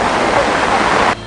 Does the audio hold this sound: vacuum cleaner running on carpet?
no